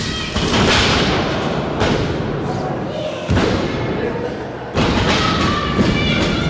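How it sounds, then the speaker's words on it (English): A heavy body slamming onto a wrestling ring mat in a power bomb at an NWA show, loud booming thuds with crowd and commentary noise between impacts. "War Machine just barely able to catch and turn that into a power bomb."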